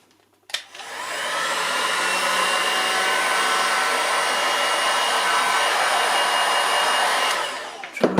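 A heat gun blows hot air in one steady, loud, broadband rush that runs unbroken for about seven seconds, starting and stopping abruptly, used on a 1960s MGB GT; no talk.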